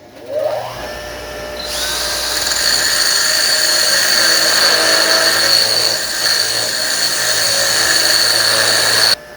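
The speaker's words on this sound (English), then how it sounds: "It's just grinding away really fast." An old, worn grinding wheel grinds metal during work on a 1940 Chevy coupe transmission crossmember, a loud continuous high whine that spins up within the first two seconds and runs steadily, close by, with no voices.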